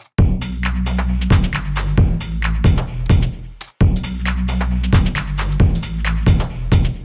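A looping garage drum pattern with a layered drum loop: deep booming kicks and crisp shuffled hi-hats and snares in a swung rhythm, loud and continuous, briefly cutting out midway before restarting.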